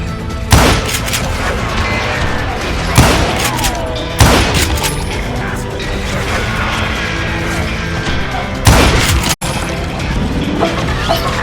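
Gunfire in the Western shooter game Call of Juarez: Gunslinger: repeated loud shots and booming blasts ring out over a steady busy game soundscape, spaced every few seconds, with a sharp cutoff near the end.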